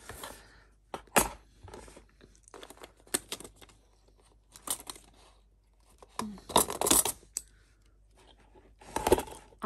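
Sheets of handwritten paper stories shuffled and slid into a divider folder, with scattered rustles, crinkles and soft taps in irregular bursts, close and fairly quiet.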